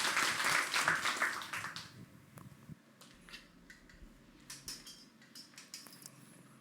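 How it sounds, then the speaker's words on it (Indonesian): A church congregation at a GBI Rajawali service in Palembang bursts into brief, close applause that dies away after about two seconds, leaving a few scattered late claps in a quiet room. "tepuk tangan lagi buat Tuhan"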